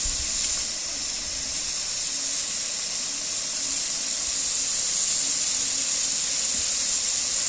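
Ginger paste and green chili paste sizzle in a pan, a steady bright hiss that holds evenly throughout without pause, close and fairly loud, with no talking.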